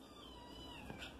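A foster cat meows faintly indoors, a thin, drawn-out call heard at low volume against a quiet room background.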